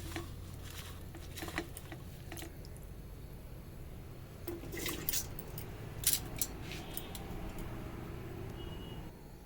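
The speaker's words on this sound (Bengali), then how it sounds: "এবারে চাল আর আলুগুলো ছেড়ে দিচ্ছি।" Rice and potatoes dropped into a pot of hot water, heard as soft, faint splashes and wet patter, with a few brighter plops in the middle and a low background hum.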